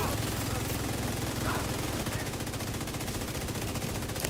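An automatic weapon empties a full magazine during PvE combat in a video game, sending out an unbroken, loud, rapid stream of shots with game sounds and a voice mixed in.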